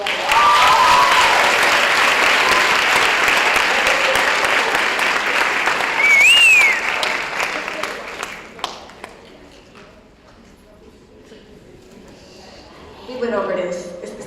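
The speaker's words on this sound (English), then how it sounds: "Let's give them a round of applause as well." Crowd at a 2023 class graduation ceremony giving a round of applause, loud dense clapping with a few whoops that fades after about eight seconds to scattered claps, then a brief swell of cheering near the end.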